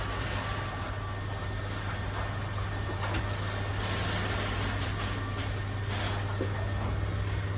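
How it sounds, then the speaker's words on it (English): A garage door opener runs, giving a steady, even mechanical drone with a low hum that holds at the same level for the whole stretch, with no talking. "That's my garage opening."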